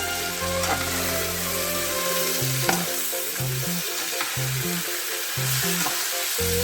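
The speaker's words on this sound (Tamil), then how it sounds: "நான் காளானை போட்டுக்கிறேன். நல்லா வதக்கிக்கலாம்." Mushrooms sauté in a pan as an egg puff filling, with a continuous close sizzle and occasional stirring clatter over light background music.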